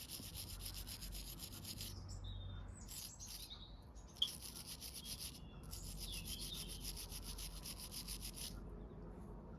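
Steady scrubbing of a silver art clay piece being polished to a shine, a continuous close rubbing hiss that runs the whole time, with one brief sharp tick midway and faint bird chirps in the background.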